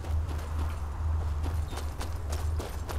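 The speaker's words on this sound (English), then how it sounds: "Get my horse, go to Silver Grove" Horse hooves clip-clop at a steady walking rhythm in the fantasy video game Enderal, close and clear over a low droning ambient bed, with no voices.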